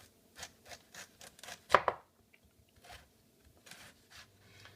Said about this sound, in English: So as I was slicing the fennel